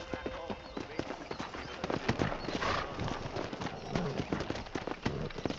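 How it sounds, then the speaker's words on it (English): Horses galloping in the Western video game Red Dead Redemption, a steady rapid clip-clop of hooves close by with an occasional whinny, and a voice talking over the hoofbeats. "Let's see if we can't wrangle some horses."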